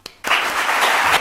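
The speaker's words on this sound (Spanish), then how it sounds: "Un aplauso para ella" Applause at an award ceremony for social work in Aragon, a burst of steady clapping from an audience starting after a brief sound and continuing evenly.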